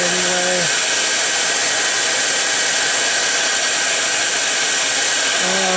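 Dryer blowing on a freshly turned wooden top on the lathe: a loud, steady high-pitched whoosh held for several seconds, with a motor whine at start and end.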